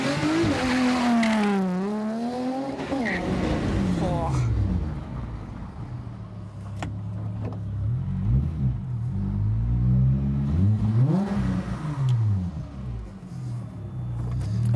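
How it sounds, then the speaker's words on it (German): A car with a newly tuned aftermarket exhaust accelerates hard on a test drive, engine rising and falling through gear changes with a deep rumbling note, people talking over it inside the cabin. "Erste Probefahrt mit dem neuen Auspuff. 5 PS mehr soll das Tuning bringen."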